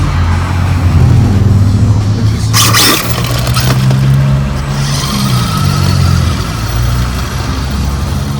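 A repaired Pokémon-themed RC car runs on its new motor, giving a steady close mechanical whir with a brief brighter rasp midway, continuous with no talking.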